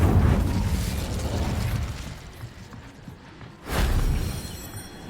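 Fire spell cast in the wizarding game Hogwarts Legacy: a rumbling whoosh fades over a couple of seconds, then a second sudden burst of flame erupts near the end, fairly quiet overall.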